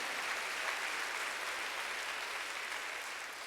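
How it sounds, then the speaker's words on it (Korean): A church congregation applauds during a sermon, a steady wash of many hands clapping that sounds soft and somewhat distant and continues without a break. "박수 한번 주세요."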